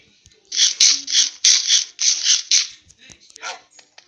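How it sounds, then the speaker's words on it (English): A pet dog in a new house gives a quick series of sharp, close yips or barks in a steady rhythm, followed by a fainter, softer sound. "Move, I'm trying to feed my dog."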